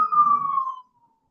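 Siren tone outside during a meeting, a single steady wail that fades out after under a second, leaving silence.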